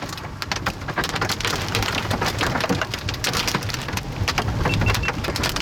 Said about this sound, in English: I don't care about the hail, just eat it.